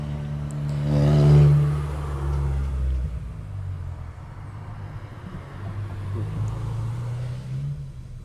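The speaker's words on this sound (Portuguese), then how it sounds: "Por que tem tanto carro agora?" Cars drive along a road beside an old school wall. A nearby vehicle swells and rumbles past early on, then steady traffic noise continues at a moderate distance, with no speech.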